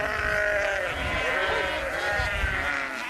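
Lambs bleat in a noisy chorus as they reunite with their mother sheep in spring in Sivas, many overlapping cries close and loud, with a few voices talking beneath.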